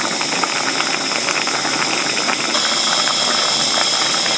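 Mukimo potatoes boil steadily in a cooking pot, giving a continuous close hissing, bubbling rush with faint rattling that holds an even loudness throughout, with no voices.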